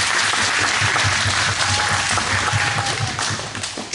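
A chapel audience gives student government leaders another round of applause, a loud, dense wash of clapping that holds steady and starts to taper off near the end.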